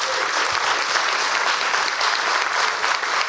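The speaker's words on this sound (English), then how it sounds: "Can we have a round of applause for these guys?" Audience at a conference panel applauds, dense steady clapping filling the whole clip without a break.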